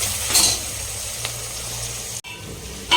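Bay leaves in hot oil for mutton biryani, a steady soft sizzle with a brief brighter crackle early on and a short clatter near the end, without speech.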